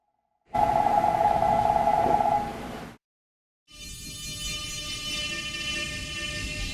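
A light rail metro train sounds a short electronic door-closing chime, then after a brief gap its motors hum up as it pulls away, a steady whine holding under the cabin.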